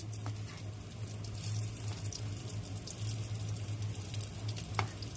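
Steady oily sizzling of mustard seeds, fenugreek, cumin and crushed garlic frying for sambar tempering in a clay pot, a continuous crackle with a low hum underneath and a few faint clinks.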